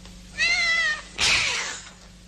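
A domestic cat gives a single drawn-out meow followed by a second, harsher and noisier cry, both close and clear against a quiet indoor background.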